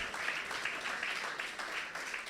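A church congregation claps in a continuous, moderately distant wash of applause that holds steady throughout, with no voices.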